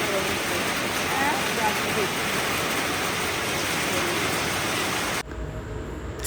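Light rain falling outdoors, a continuous soft, even hiss holding steady for several seconds before cutting off abruptly.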